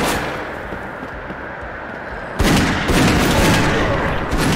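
Rapid gunfire from the video game Dead Second, a dense loud burst of shots kicking in midway after a quieter rumbling stretch, continuing as sustained firing to the end.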